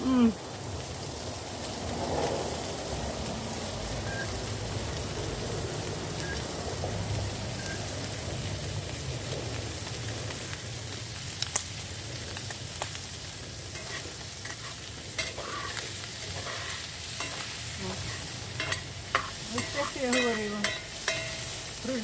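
Potatoes fry in oil in a pan or cauldron over an outdoor fire, giving a steady sizzle with occasional scraping and stirring noises, and a voice speaks now and then.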